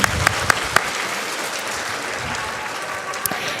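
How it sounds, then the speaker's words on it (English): Applause from an audience of sixth graders and families at a school recognition gathering in an auditorium: a dense, steady clatter of clapping with a few sharp individual claps standing out, continuing for the whole span. "Let's give a round of applause to our sixth graders."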